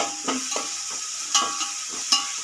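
Soft sizzle of frying in a mix of ghee and sunflower oil in a home kitchen pan, with a few light stirring clinks and scrapes over a steady hiss.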